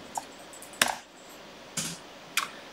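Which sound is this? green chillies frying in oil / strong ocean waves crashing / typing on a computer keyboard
typing on a computer keyboard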